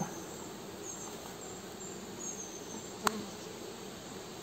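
A wild honeybee swarm being transferred into hive frames gives a steady, moderately loud insect hum that carries throughout without a break, with a single sharp tap near the end.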